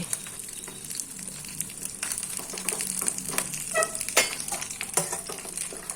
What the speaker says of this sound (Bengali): লতি চিংড়ি মোড়ানো পাতাটা প্যানের মধ্যে দিয়ে দিচ্ছি